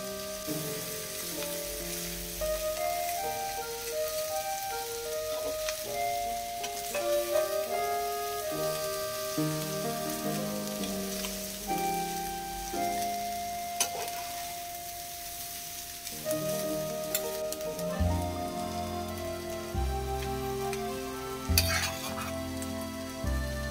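Egg fried rice, Kolkata style, is stirred and fried in a pan: a steady sizzle with scraping strokes continues throughout under prominent background music.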